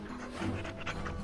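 A dog in the fantasy video game Dragon Age: Origins pants in quick, steady breaths, close and fairly loud, with no voices over it.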